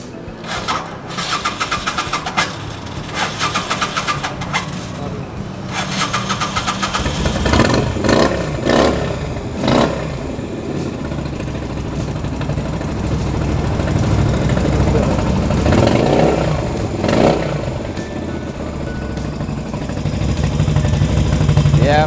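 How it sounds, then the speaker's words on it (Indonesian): A Kaisar Ruby 250 motorcycle with a two-cylinder V-twin engine cranks and fires up nearby, then idles roughly and revs in repeated loud bursts, with a few people talking briefly in the background. "gimana suara mesin dari Kaisar Ruby 250 ini yang pakai mesin V-twin 2 silinder"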